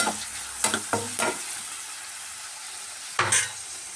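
Two medium-cut large onions sizzle in a pan for mutton sukka, a constant hiss of frying broken by several sharp scraping stirs of a spoon against the pan, close and without talk.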